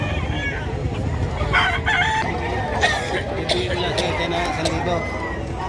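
A rooster crows at a busy outdoor chicken market in Padre Garcia, Batangas, while nearby people chatter and a crowd murmurs throughout.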